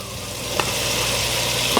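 Marinated chicken sizzles as it fries in gravy in a pan, with a steady close hiss throughout and a couple of faint clinks.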